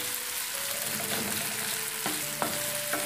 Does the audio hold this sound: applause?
no